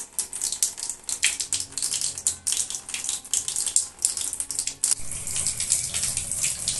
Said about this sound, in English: Вот такая вода у нас подается из крана.